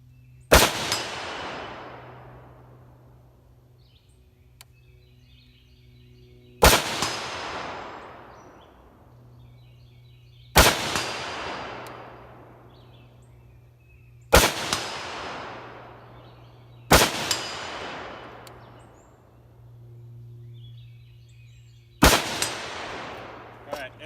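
A DSA SA58 rifle with a BRS stock fired outdoors, six loud, sharp single shots spaced several seconds apart, each followed by a long decaying echo across the range, with no talking.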